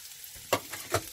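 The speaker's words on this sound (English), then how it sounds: "I'll just go ahead and just put the onions straight in, and they are sizzling away lovely." Onions hit a hot pan with a bright crackle, then a steady sizzle with a couple of louder pops and stirring scrapes, close by.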